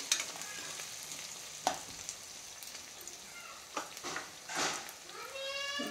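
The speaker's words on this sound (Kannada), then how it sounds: "ಸ್ವಲ್ಪ ಫ್ರೈ ಆಗಬೇಕು. ಫ್ರೈ ಆಗಿದೆ." A curry base for peas and potatoes fries in a pan with ginger. A soft, quiet sizzle runs throughout, broken by several spoon scrapes and stirring strokes, louder toward the end.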